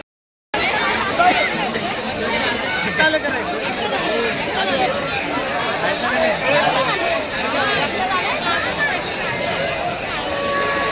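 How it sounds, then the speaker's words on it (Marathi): A dense night crowd fills the Mhasa Yatra fair, a close, constant babble of many overlapping voices and general hubbub that continues steadily after a brief silent start. "तर भरपूर गर्दी आहे मित्रांनो."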